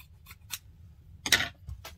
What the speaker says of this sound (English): So now, cut our loose threads